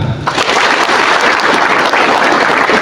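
Loud, dense applause from a large gathering at an organizational address, steady and unbroken clapping filling the room from start to finish.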